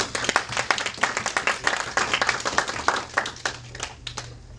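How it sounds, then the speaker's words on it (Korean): Church congregation clapping for the worship team at a Sunday service: steady, fairly loud applause of many hands in a hall, continuing for nearly five seconds over a faint low hum. "우리 찬양팀 우리 연인모 집사님과 그 다음 또 단장님으로 수고하고 계신 우리 최승호 집사님께 우리 박수 한번."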